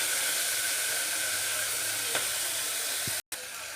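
Chopped onion and tomato fry in hot oil, sending up a steady, close sizzle with a soft hiss that runs unbroken until one brief stir-like knock and a momentary dropout near the end.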